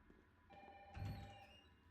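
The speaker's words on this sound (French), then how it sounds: "Ah, téléphone." Telephone ringing in the Resident Evil 3 video game, a single quiet electronic ring tone swelling briefly at mid-distance over faint room ambience.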